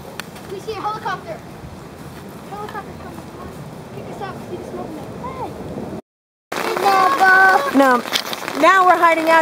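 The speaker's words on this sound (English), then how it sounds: "Now we're hiding out in the tent because it's pouring down rain." Heavy rain pours on a tent during a camping stay near a river waterpark, a dense steady patter heard close up while a child and an adult talk over it, with a brief dropout partway through.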